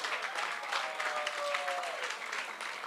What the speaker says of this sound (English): Let's give all of our participants and winners a round of applause.